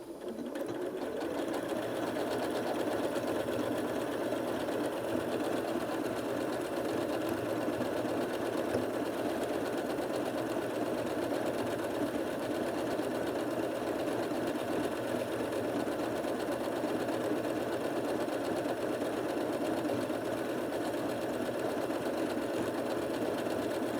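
A Janome Atelier 9 sewing and embroidery machine stitches out a word in one long, unbroken run, its steady close whir and fast regular needle chatter holding at an even level throughout.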